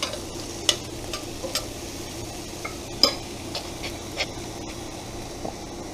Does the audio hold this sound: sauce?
yes